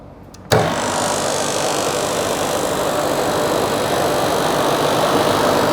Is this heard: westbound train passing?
no